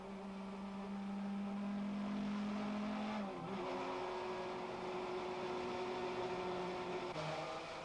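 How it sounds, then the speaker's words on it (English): Touring race cars, including an Opel Astra, set off on a warm-up lap at Zwartkops, recorded from an in-car camera: a steady engine drone rises and shifts pitch with gear changes, loud and close throughout. "with the cars setting off on their warm-up lap"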